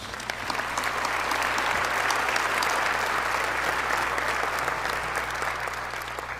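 Sustained applause from an audience at a city State of the City address honoring event sponsors, a loud, dense wash of clapping that holds steady from start to finish with a low hum beneath.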